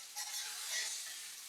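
Seasoned chicken pieces frying over low heat in a pan, a faint, steady hiss and crackle of sizzling throughout with no voices.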